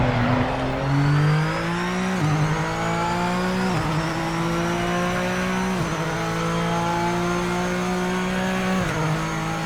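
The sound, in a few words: GT3 race car engine downshifting in the racing video game PMR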